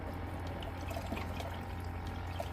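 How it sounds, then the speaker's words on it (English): Water pours steadily into a toy biochemical chamber, filling it with a continuous bubbling wash that stays even and close throughout, with no voices. "let it fill up, bubble for a little bit, so that the level settles, and then fill it up a little more"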